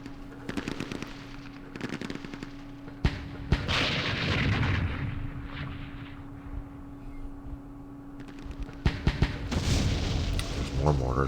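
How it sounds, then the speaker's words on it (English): Mortar fire in Campaign Series Middle East, a wargame: sharp booms and bursts of gunfire come in scattered clusters over a low rumbling background, some loud, some further off. "There's mortars."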